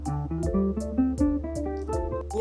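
A short synthesized melody steps through a pentatonic scale over a steady beat with crisp hi-hat ticks and a low bass pulse, bright and upfront.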